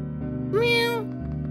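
In the video game OneShot, a single clear cat meow rises and falls for about half a second, standing out over a constant layer of background game music.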